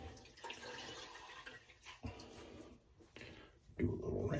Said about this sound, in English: Do a little rinse here.